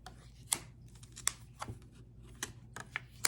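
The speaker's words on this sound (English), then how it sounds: "Shuffle one more time. Being guided to shuffle one more time." Tarot cards being shuffled during a reading, heard as a series of quiet, crisp riffling bursts and flicks spaced irregularly over a soft background.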